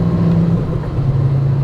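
A Volkswagen five-cylinder car drops a gear and accelerates, its engine giving a loud, steady low drone with a rising whir, close and without talk.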